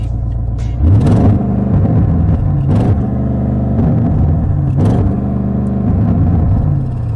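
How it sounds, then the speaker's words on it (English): Audi RS7 2023 V8 with sports exhaust revved while stationary, a steady idle rumble broken by three or four short, loud blips that hit a soft limiter and fall back, close and with no talking. "You're going to want other people to be able to appreciate how good this car can sound, so you're going to rev it at traffic lights."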